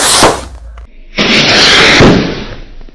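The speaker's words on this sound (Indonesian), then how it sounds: "Dan penutupnya ini Dragon Rocket terbesar guys, warna biru ya." A large blue Dragon Rocket firework goes off with sharp loud bursts and a crackling, hissing spray, close and brief, over about three seconds.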